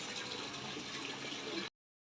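Steady rush of running water while fish are washed by hand outdoors, a continuous close, fairly soft splashing flow that stops abruptly.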